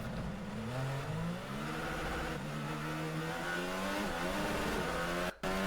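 Several Formula 1 race cars roar on track during a race in Spain, their overlapping engine notes rising and shifting as they accelerate, a dense, steady wall of sound that cuts out abruptly near the end.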